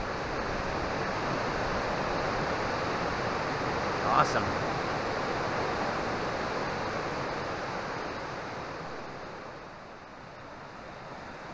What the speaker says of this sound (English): It's an angry river.